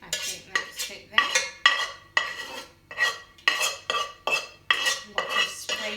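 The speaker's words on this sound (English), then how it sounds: "Lot of scraping." A metal utensil scrapes and stirs in a pot while macaroni pie is made, with about a dozen rhythmic, close, bright scraping strokes separated by short pauses.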